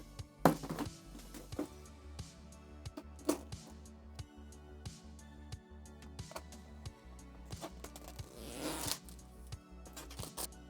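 A Wooting 80HE keyboard box being opened by hand: close, intermittent cardboard scrapes, sliding and thuds, a few sharper taps, and a burst of rustling packaging near the end, with no one speaking.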